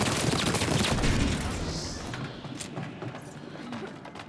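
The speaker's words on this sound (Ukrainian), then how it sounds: "Стріляй, стріляй. Біжи, а я тобі постріляю. Ні, це я стріляю." Rapid bursts of gunfire in the video game Split Fiction, dense and loud at first, then thinning to scattered shots, with voices talking alongside.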